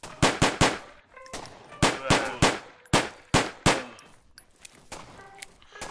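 Rapid gunfire in a zombie shooter video game, with sharp loud shots in quick bursts and short pauses, the reports thinning out toward the end.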